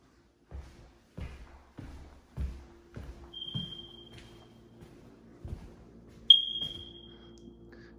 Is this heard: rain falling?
no